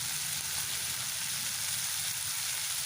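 Tomatoes with a little salt frying in a pan for minced meat keema, giving a dense, even hiss of sizzling oil, close and constant without pause.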